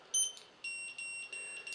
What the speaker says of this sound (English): Those long beeps are not good